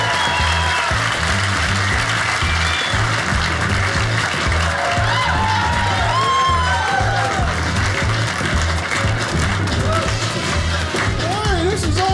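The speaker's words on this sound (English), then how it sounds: "put your hands together right now. Start clapping" A comedy show crowd claps and cheers nonstop, dense applause filling the room at full volume with whoops rising over it throughout.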